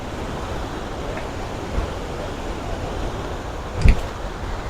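Muddy, rain-fed waterfall water flowing near Bentong, Malaysia, a constant broadband rushing roar with one brief low thump near the end and no voices.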